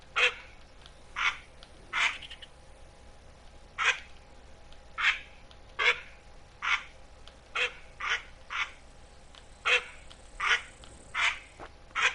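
Green-winged teal hens call in a hunting game set in Mississippi acres, giving short, raspy quacks that come in an uneven series of about fifteen over quiet marsh ambience, with no one talking.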